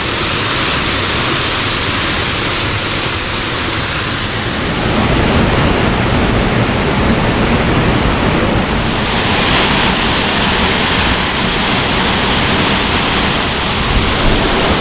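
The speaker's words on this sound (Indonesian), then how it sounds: "kita sudah sampai di air terjunnya sahabat ya" A small, low forest waterfall pours in a loud, steady, broadband roar that fills the scene without pause, growing slightly louder partway through, with no voices.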